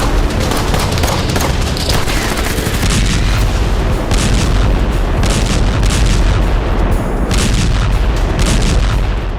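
Heavy gunfire and explosions in Gaza near Al-Shifa hospital during Israeli strikes, a loud, dense, continuous roar of booms and cracks with no pauses and no voices.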